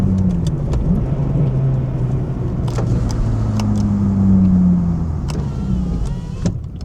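Nissan 350Z engine running while driving, a steady low mechanical drone with rising and falling rev tones, loud and close, with occasional faint clicks over the engine.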